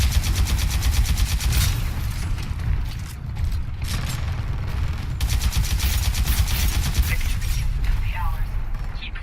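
Sidewinder SMR rockets fire in Titanfall 2, a rapid stream of rattling launches and explosions in quick bursts separated by brief pauses, with mechanical clatter throughout and a voice talking over it.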